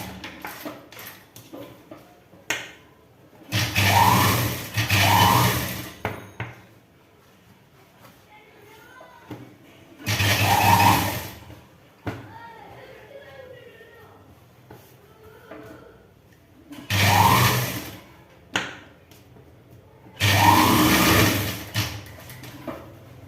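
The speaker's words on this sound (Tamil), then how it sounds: "இப்போ இந்த லைனிங் வரைக்கும் இதை சுற்றி ஒரு தையல்." A sewing machine stitches around the lining of a chudi in four loud bursts of rapid mechanical stitching, separated by quieter pauses with faint handling noises and a voice speaking.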